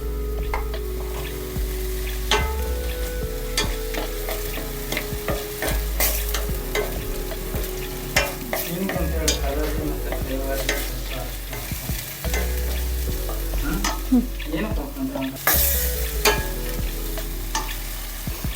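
Masala for paneer matar curry frying on a low flame while stirred, a continuous close sizzle with repeated scraping strokes of the spoon and occasional clinks against the pan.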